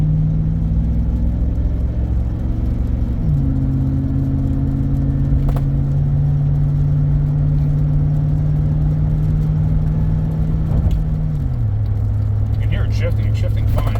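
A 2006 Chevrolet drives along on a road test after a transmission misdiagnosis, its engine droning steadily inside the cabin and dropping in pitch twice as the automatic transmission shifts up through the gears.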